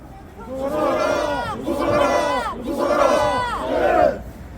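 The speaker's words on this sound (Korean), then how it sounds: "여기 모이신 동지들의 힘찬 박수와 함성으로 시작하겠습니다" A rally crowd shouts slogans in loud rhythmic chanted bursts, several rising and falling waves of voices in unison.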